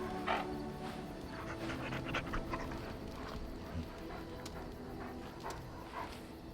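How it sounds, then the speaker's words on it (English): Dog panting in the fantasy role-playing game Dragon Age: Origins, a steady breathy rhythm with a few whimpers, sitting under faint game ambience and low background music. "Good doggy."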